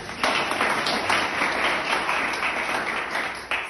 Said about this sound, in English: A round of applause for my previous speaker.